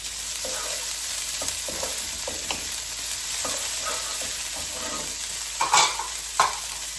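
Carrots and a bone fry in a thin coating of olive oil in a pan, giving a constant close sizzle broken by soft stirring scrapes and a couple of louder clatters near the end.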